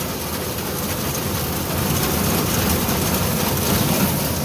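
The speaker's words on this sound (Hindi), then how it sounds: "आगे ट्रैक्टर चल रहा है जी फीएट 640" A Fiat 640 tractor runs a rapper bender machine imported from Turkey, making a loud, steady mechanical drone and rumble that holds without pause throughout.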